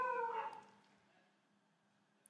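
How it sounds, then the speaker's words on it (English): Dogs bark or howl at a distance behind a lecture on linked-list data structures. The sound is a brief, fairly faint burst at the start that fades over about half a second, with no talk over it. "The dogs have started barking"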